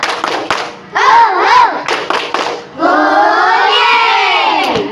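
Classroom of children doing a rhythmic spirit clap, sharp patterned clapping at the start mixed with chanting voices, followed by children singing together, loud and close.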